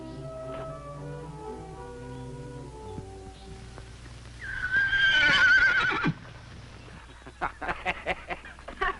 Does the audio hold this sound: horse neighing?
yes